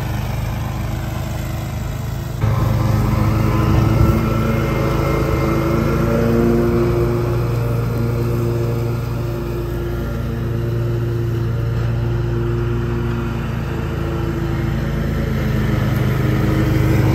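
A riding lawn mower cutting grass on an extremely steep hill gives a steady, loud engine drone that grows slightly louder after a couple of seconds and holds for the whole stretch, with no voices.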